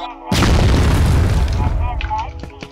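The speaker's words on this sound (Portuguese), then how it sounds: "Toma, granada!" A grenade goes off in a video game, a sudden, heavy, close boom that rumbles and slowly decays over a couple of seconds, with faint voices underneath.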